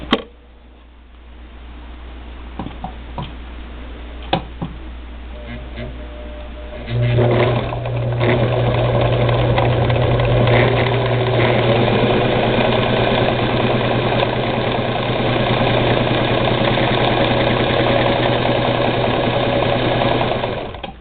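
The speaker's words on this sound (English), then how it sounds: "And this is why this machine is so versatile, it just sews." A Singer Model 237 sewing machine sews a pillowcase, with a few quiet clicks of handling before the motor starts into a loud, steady, even whir that runs on unbroken.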